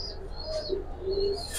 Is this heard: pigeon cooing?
yes